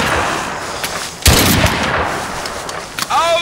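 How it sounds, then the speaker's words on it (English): Gunfire rings out in a video-game trench battle, with one loud close shot standing out against a continuous backdrop of distant firing and battle noise, plus a few further sharp reports toward the end. "There's 3 people firing in this trench right now."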